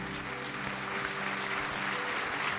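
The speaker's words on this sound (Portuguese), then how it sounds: "Palmas para Jesus," A church congregation claps steadily and densely, a continuous loud wash of many hands with no gaps and no voices above it.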